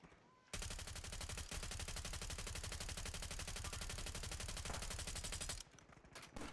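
A GPR rifle in a video game fires a long, fast automatic burst, loud and dense for about five seconds, with brief pauses before and after.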